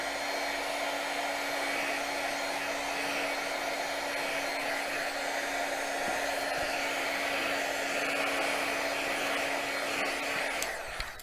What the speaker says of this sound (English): I'm just going to give that a little bit of a dry with my heat tool